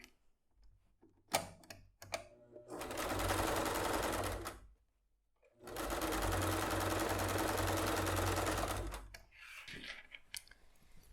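A sewing machine stitches a handbag's lining closed in two steady, close runs of a few seconds each, broken by a pause and light handling clicks around them.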